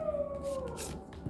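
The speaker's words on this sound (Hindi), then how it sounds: "इस टाइम पे कुत्ते एक्टिव हो चुके हैं, डॉग्स" A dog howls at night in the distance, a faint drawn-out wavering tone over a quiet background.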